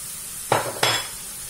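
Minced meat with tomato, spices, coriander, parsley and garlic being stirred in a frying pan for a Tunisian tajine, heard as two short scraping strokes about a third of a second apart under a faint sizzle.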